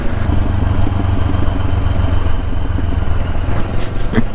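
A Kawasaki Ninja 500 SE twin-cylinder motorcycle engine runs steadily, a loud, close, throbbing low drone with a slightly rough, tractor-like beat and no clear changes in revs.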